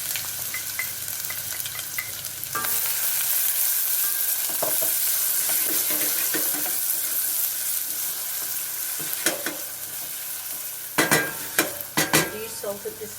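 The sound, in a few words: onion frying in hot oil on the stove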